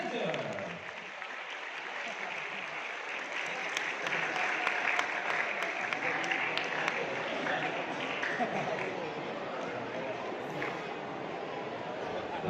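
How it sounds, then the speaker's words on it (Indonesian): Audience applause at an Islamic book fair launch of a Quran storybook, a sustained even wash of clapping from a sizeable crowd filling the space throughout. "Tepuk tangan untuk launching Al-Quran Kisah The Fantastic of Adventure."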